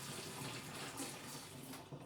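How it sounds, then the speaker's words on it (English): Hot water tipped out of a pot into a sink while making chilli plum sauce, a steady close splashing pour lasting the whole moment with no voices. "just tip out that hot water"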